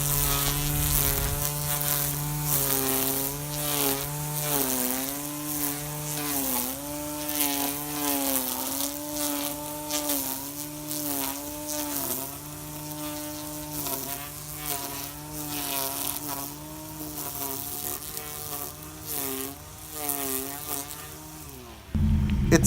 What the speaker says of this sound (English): Let me go ahead and show you the trimming.